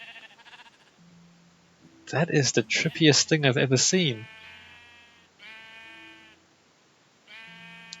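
Sheep in Minecraft bleat in several wavering calls, spaced apart with short gaps between them, alongside loud excited speech from a player.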